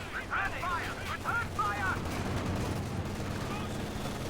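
Battle gunfire from conscript infantry in a large 4v4 Company of Heroes 2 match, steady rifle and machine gun bursts with distant booms, heard under a continuous voice.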